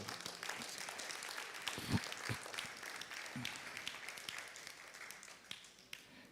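Congregation applauding during a church gathering, a dense continuous patter of many hands at moderate distance, steady throughout with a few sharper claps standing out.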